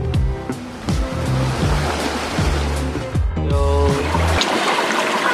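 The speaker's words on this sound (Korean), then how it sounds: "이 강원도 계곡 와서요 이렇게 발 담그고 놀고 있습니다" A mountain valley stream in Gangwon-do rushes steadily in a broad, continuous wash of water, close and fairly loud, with some irregular splashing and clattering of people playing in it.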